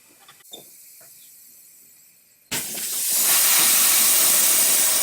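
Compressed shop air blasts out through a stripped spark plug hole on a Ford Triton engine, a sudden loud, steady hissing rush that starts midway after a quiet stretch with faint clicks.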